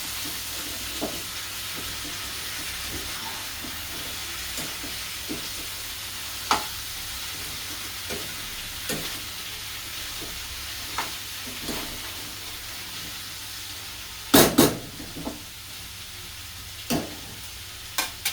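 Millet bhakri coated with sesame seeds cooking on a hot griddle, a faint steady sizzle broken by occasional soft taps and a louder clatter near the end, with no talking.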